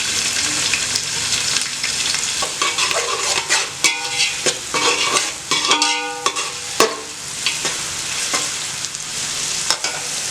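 Chopped large onions fry in oil for mutton pulao, a loud, close crackling sizzle with repeated scraping stirs and clattering spoon-against-pan knocks throughout, no voices.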